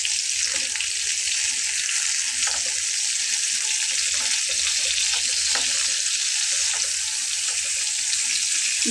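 Brinjal pieces fry in hot oil in a pan, giving a loud, dense, continuous sizzle with occasional soft knocks as they are turned over, and no voices.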